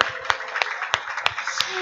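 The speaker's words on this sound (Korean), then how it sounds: "우리 열심히 한 렘넌트들에게 박수 좀 부탁합니다" A small church audience at a children's Bible recitation contest claps, with scattered, uneven claps and a few sharper individual hand strikes standing out over a soft murmur of voices.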